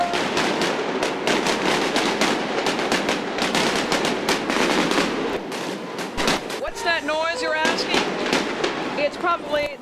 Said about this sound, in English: It's probably the second most popular boat, the fireworks barge.